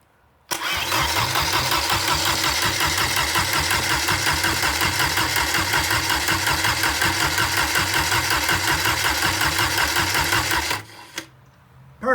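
A Porsche 944 Turbo engine with a low oil pressure problem cranks and fires, then runs at a steady, loud idle with a fast, even pulsing rhythm for about ten seconds before cutting off.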